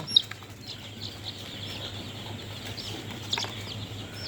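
Young broiler chicks on a poultry farm give soft scattered peeps and clucks over a low steady hum, with a few brief sharper calls, no talking.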